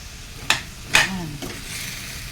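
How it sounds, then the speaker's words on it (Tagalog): Ground meat and vegetables being stir-fried in a pan, with a few sharp scrapes of a utensil against the pan over a soft background sizzle, close by. "Haluin lang natin para ma-mix ang ating giniling sa ating gulay. Ayan guys, gisa-gisa muna natin para masarap."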